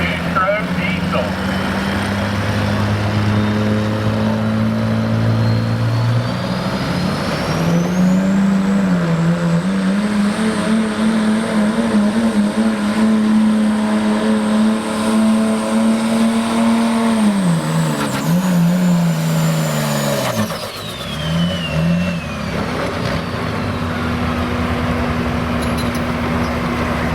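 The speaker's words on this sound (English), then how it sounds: "An Oliver 990 supercharged two-stroke diesel." Oliver 990 supercharged two-stroke diesel tractor pulling at a farm stock truck and tractor pull, a loud, sustained engine roar that climbs and holds steady, then drops off near the end, with voices over it.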